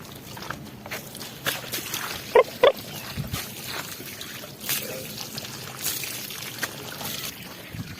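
Water splashing and trickling as animals are bathed on a hot day, soft intermittent pours with a few sharp knocks and shuffling, under faint distant voices.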